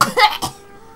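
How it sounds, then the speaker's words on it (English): A person coughs in a quick, close burst of two or three harsh hacks lasting about half a second, followed by quiet. "When I've stopped coughing, we'll move on."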